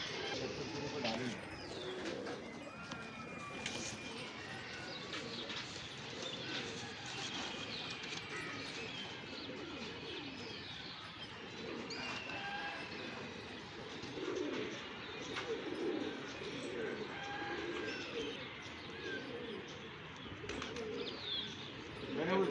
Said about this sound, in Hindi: जाल में पड़े हैं 2 कबूतर